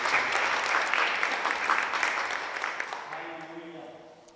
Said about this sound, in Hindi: ज़रा ज़ोरदार तालियां ज़रा अबिया के लिए।